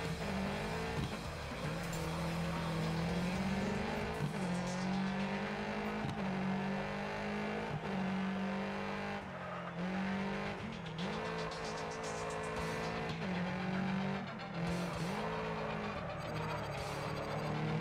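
Race cars in the video game Gravel roaring through a race, engines droning and revving with shifting pitch, punctuated by gear changes and occasional tire squeals, continuous and loud with no voices.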